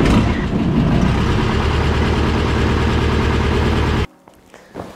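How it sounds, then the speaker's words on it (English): A light aircraft engine cranks and starts, then runs at a loud, rough idle with a steady throbbing beat, close by, before cutting off abruptly near the end and leaving faint clicks. "engine start."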